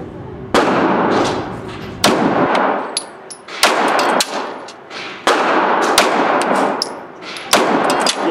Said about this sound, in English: John's going to shoot for the left. I'm going to shoot for the right